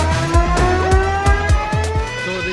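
The CUPRA UrbanRebel concept car, with 250 kW constant and 320 kW peak power, drives loudly on a test track, its drive note sweeping up and dropping in repeated quick surges.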